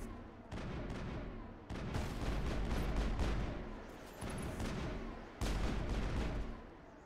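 Gunfire in Mass Effect: loud, dense bursts of shots and booming impacts fill the whole stretch, with a brief lull near the start and a renewed heavy volley toward the end.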